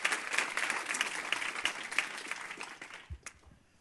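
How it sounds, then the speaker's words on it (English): Audience at a machine learning talk applauding the event organizer, dense clapping that starts strong and gradually thins out, with a few scattered claps and thumps at the end. "Let's all just give him a round of applause for organizing these"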